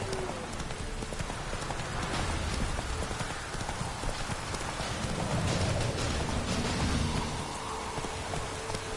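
Roach, a horse in The Witcher 3, clip-clops steadily through rain, with rhythmic hoofbeats over a dense wash of rainfall that holds constant throughout.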